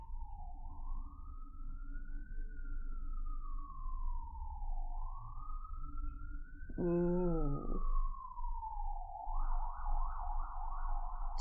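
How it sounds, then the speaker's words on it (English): Wailing sirens from an anime episode rise and fall in long sweeping cycles, then a faster warble and a brief honking blast break in, moderately loud and steady, with a single short exclamation from a viewer. "It's a good timing on those sirens."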